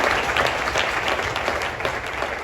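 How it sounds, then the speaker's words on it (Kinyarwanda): Members of the congregation at a Nazarene church in Rwanda applaud loudly during worship, giving a short, dense burst of many hands clapping close by. "Twakujya tugakomera Imana amashyi menshi cyane."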